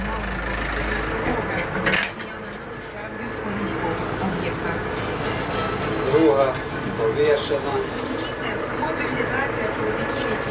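A KATA KE504 tractor engine runs steadily nearby with a low, rumbling drone that swells slightly at times, as someone talks over it.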